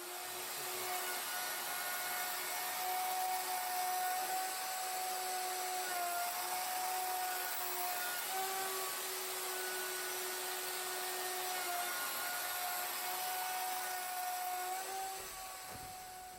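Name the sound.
Festool router running on custom router sled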